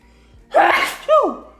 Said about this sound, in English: I think I'm getting a little sick, guys. Oh my gosh, my nose is runny. Sneezing.